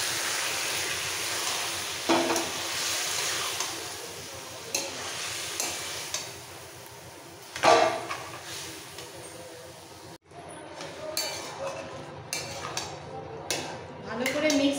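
A pan of fish-head and Malabar spinach curry simmers and is stirred with a spoon, giving soft sizzling and bubbling with occasional scraping clinks against the pan, moderately quiet, with speech over parts.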